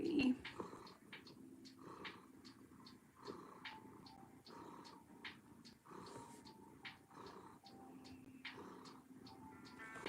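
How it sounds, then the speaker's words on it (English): Evie, a kitten, purrs loudly and steadily right up close, a rhythmic rumbling pulse of in-and-out breaths with no voices. "Oh, you've got a big purr,"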